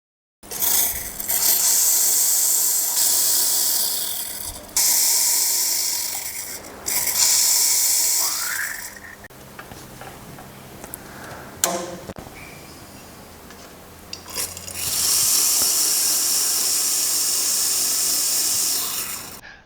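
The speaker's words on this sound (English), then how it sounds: "We now press brake cleaner through the 8 injectors." Brake cleaner is forced through the eight fuel injectors of a Mercedes W108 3.5 V8 in loud, close bursts of hissing spray, several seconds each, separated by brief pauses and a quieter stretch of clatter.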